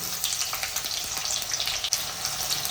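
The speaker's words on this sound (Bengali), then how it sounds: "এবার আমি পেঁয়াজ ছেড়ে দিচ্ছি তেলের মধ্যে" Sliced onions dropped into hot oil in a kadai, frying for birista in a vegetable biryani. The sizzle is loud, dense and crackling, heard up close and continuous, with no voices.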